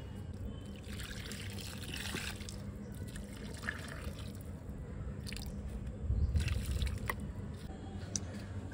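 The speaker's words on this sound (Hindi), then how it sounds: "पानी डाल देते हैं।" Water poured onto newly planted plants in a fourth-floor terrace garden, a faint splashing trickle with soft drips and squishy soil sounds, swelling briefly near the end.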